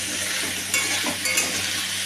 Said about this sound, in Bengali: এবার এটাকে ভালো করে নেড়ে আমি ভাজা করে নেব।